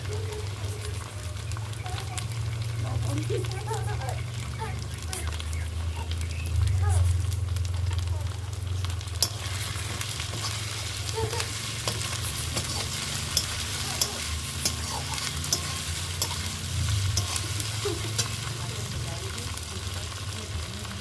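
Steady frying sizzle of ginger paste in a pan, close and continuous, with occasional stirring scrapes and faint voices in the background.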